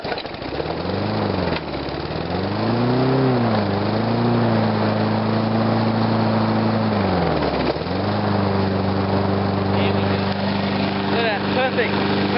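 Ride-on lawn mower engine running at slow idle up close, a steady droning hum whose pitch wavers and dips a few times before settling into an even, continuous tone.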